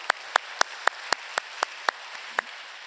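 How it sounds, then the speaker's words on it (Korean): Sparse, evenly spaced sharp claps, about ten in under three seconds, quiet and fairly distant, from a church congregation welcoming first-time visitors. "여러분 그 박수로 환영하시지요."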